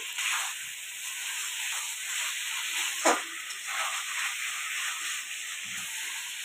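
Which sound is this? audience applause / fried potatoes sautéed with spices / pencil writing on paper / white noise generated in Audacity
fried potatoes sautéed with spices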